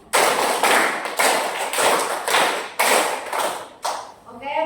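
A group claps out a hand-clapping rhythm in a classroom, with several loud bursts of clapping separated by short pauses, ending with a softer patter.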